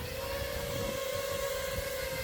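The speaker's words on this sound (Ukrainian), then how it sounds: "Ось так звучить вже повноцінний дрон." A full-size 7-inch FPV drone flies outdoors, giving off a steady, loud tonal whine that holds one pitch without a break through the whole stretch.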